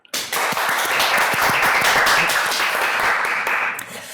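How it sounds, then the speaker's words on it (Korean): Welcoming applause from an audience at a political discussion forum: dense, steady clapping of many hands that starts abruptly, holds for about four seconds, then begins to thin. "김문성 기자를 좀 환영의 박수로 맞이를 해주시기를"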